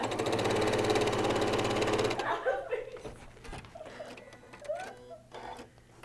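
A home sewing machine stitching a boxed pouch while running with an odd, not-right sound, a fast loud mechanical chatter for two seconds, then stopping into quieter handling clicks and rustles.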